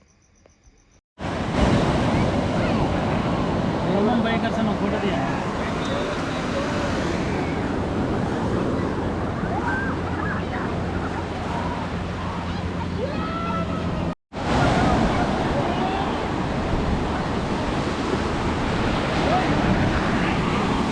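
Waves wash continuously onto a Goa beach in India, a steady broadband surf with wind rumble on the microphone, beginning after a brief quiet moment and cut by a short break near the end.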